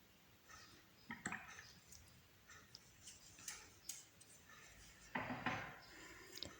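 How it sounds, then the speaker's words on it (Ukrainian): A paintbrush is swished and tapped in a water jar while painting a butterfly, giving a string of light clinks and small splashes, close and alone with no talking. "Миємо пензлик."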